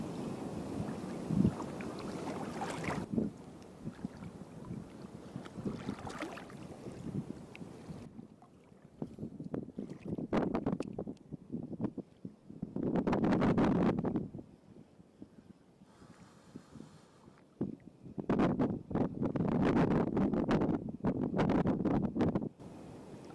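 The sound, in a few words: wind picking up on the water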